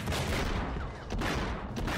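Gunfire in the Enter the Matrix video game, dense rapid shots crackling over a busy noisy backdrop, fairly quiet overall with a brief lull midway, no talking.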